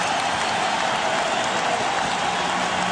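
Loud, continuous crowd roar from a packed arena during Game 6 of the 2000 NBA Finals between the Lakers and Pacers at Staples Center, a dense wash of cheering with no letup.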